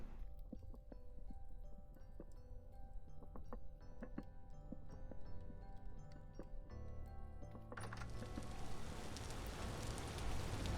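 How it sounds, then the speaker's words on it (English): Rain falling in the survival game Vintage Story, a steady broadband hiss under scattered clicks and soft thumps. It swells noticeably louder and denser toward the end. "I like the rain in this game."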